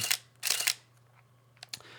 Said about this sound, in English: I think it has a cool shutter sound